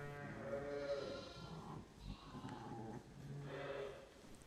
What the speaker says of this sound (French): le bêlement juvénile des agneaux dans les bergeries